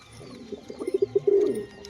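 A male and a female crested pigeon coo at close range in a short burst of soft, throaty pulses. The pulses speed up and swell into a sustained coo at the end.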